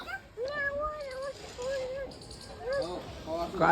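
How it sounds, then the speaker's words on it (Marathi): A cat meows several times in quick succession, close and fairly clear, while a person talks nearby. "म्याऊ आली म्याऊ"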